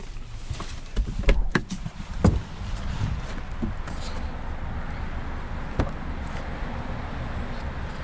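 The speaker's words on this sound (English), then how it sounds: "These doors open up so wide." A few sharp clicks and thumps of a 2021 Nissan Rogue SL Premium AWD's wide-opening doors, spaced over several seconds, above a steady low rumble.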